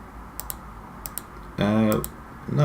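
Sharp computer mouse or keyboard clicks come in scattered pairs during a Football Manager 2019 session, with a voice talking partway through.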